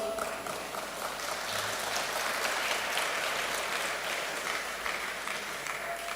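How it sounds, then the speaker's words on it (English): An audience at a sustainability event claps together in sustained applause, a dense patter that swells slightly and then continues at a steady level. "That's easy to get an early applause"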